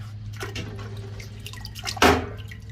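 A water filter element is scrubbed under running water, with soft dripping and trickling and a brief louder splash of water near the end.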